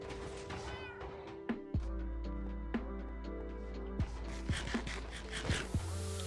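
Minecraft cats meowing again and again, clear in-game mews layered over steady background game music, with a few sharper clicks and thuds as play continues and no talk.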